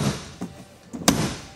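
A large baggage door on a 2022 Passport 268BH travel trailer swings shut and catches on its slam latch, giving a sharp close thump after a softer knock, near and fairly quiet.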